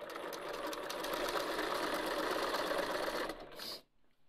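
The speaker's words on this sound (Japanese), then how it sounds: "ミシンって面白いですね。" A sewing machine stitches fabric for a figure-skating costume, a steady, fast mechanical whirr that runs for a few seconds and then stops abruptly, with no speech over it.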